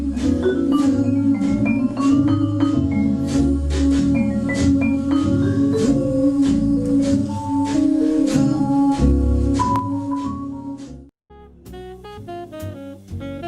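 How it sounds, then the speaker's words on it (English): A jazz vibraphone solo generated by Band-in-a-Box software, ringing mallet notes in quick runs over a steady backing band with bass and chords, then a brief pause before the vibes resume alone. "Pushing play, I now hear the solo performed by the vibraphone."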